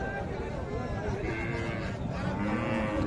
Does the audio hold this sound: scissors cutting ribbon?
no